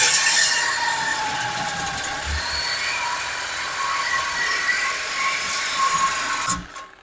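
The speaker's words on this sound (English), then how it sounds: "It's that magic sawzall that everybody's wondering about." A variable-speed Sawzall cuts slowly through exhaust pipe while a Magnaflow 19433 muffler kit is fitted to a 2019–2024 RAM 1500, giving a continuous close, harsh rasping drone that cuts off abruptly at the end.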